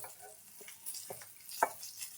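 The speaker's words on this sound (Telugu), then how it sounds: "ధనియాలు, జీలకర్ర వేసేద్దాము. కాసేపు వేగిద్దాము." Coriander seeds and cumin stirred and dry-roasting in a pan give soft scraping and light rustling strokes, a few distinct scrapes with faint crackle, close and quiet.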